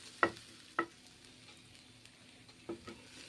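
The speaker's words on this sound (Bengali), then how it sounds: "আর একটু বাটার দিয়ে ভালো করে গোলমরিচগুলোকে ভেজে নেব।" Black pepper frying in butter in a pan as it is stirred, with a few sharp utensil scrapes and taps over a faint sizzle, close and quiet.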